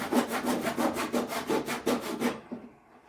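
Hand saw cutting through a thin wooden piece for a desktop book holder, about eight steady rhythmic push-pull strokes, close and clear, then stopping abruptly.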